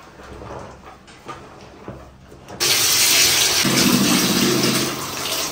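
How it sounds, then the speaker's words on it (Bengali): A scrubbed item rinsed under running tap water, a soft trickle at first, then a sudden loud, steady gush of water splashing that holds for several seconds, close, with no talking. "এবার ভালো করে নর্মাল জলের মধ্যে ধুয়ে নিচ্ছি"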